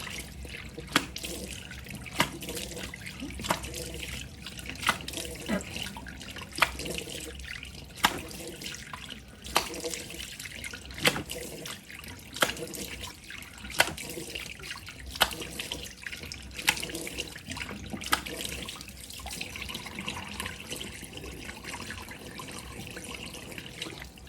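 Tap water runs into a sink while someone washes her face, a steady splashing stream broken by regular louder splashes and drips of water cupped up and thrown, close by, with no talk.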